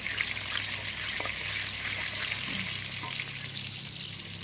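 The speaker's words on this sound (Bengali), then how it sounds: "আমি এখানে আলুটা ভাজতে দিয়ে দিলাম" Potato pieces frying in oil in a pan, a soft, continuous bubbling sizzle heard close, moderately quiet and steady without talk.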